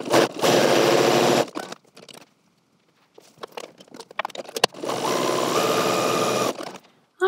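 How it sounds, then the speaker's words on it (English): A sewing machine runs a line of stay stitching along a deep V neckline and armholes of a garment piece, two loud sustained bursts of motor whir close by, separated by a pause filled with handling clicks and rustling. "So I'll also run a line of stay stitching through this deep V and on the armholes of this pattern piece as well"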